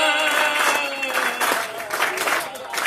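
Audience at a live folk performance claps along, a dense wash of applause running under singing voices and accompaniment.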